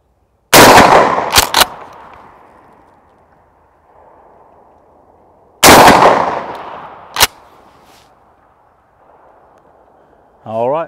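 Two loud shotgun blasts firing slugs at a target at an outdoor range, each a sharp boom followed by a long echoing decay, with a lighter snap after each shot and a brief mechanical sound near the end.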